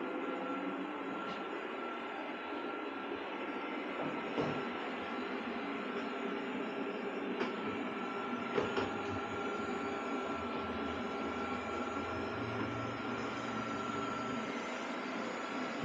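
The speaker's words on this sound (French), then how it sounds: "Voilà, donc le robot commence à nettoyer." A Liectroux C30B robot vacuum cleaner runs on a floor with a steady, even motor whir at moderate distance. A few faint knocks break through the continuous hum.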